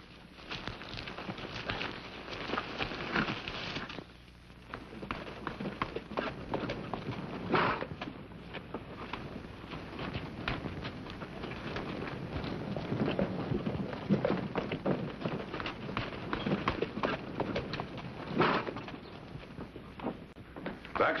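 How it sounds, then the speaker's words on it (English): Horses galloping, a continuous fast drumming of hooves on open ground that carries through the whole passage, with a brief lull partway through and wind noise underneath. "Get on your horses."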